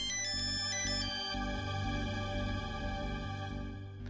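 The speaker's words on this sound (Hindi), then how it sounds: "मल्लिका मैम का फोन?" A phone ringtone plays loud and near, a bright repeating melodic pattern that settles into a sustained tone, with no one talking.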